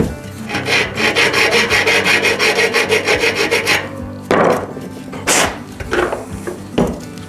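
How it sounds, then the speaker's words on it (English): A rat tail file grinds the edges of a Trek bicycle part in a loud, rapid back-and-forth rasp for several seconds, followed by a few slower, separate scraping strokes and a knock. "Take my rat tail file, grind some edges."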